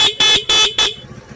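A car horn wired through a newly installed horn relay gives three loud, close honks, each about a quarter second long, followed by quiet.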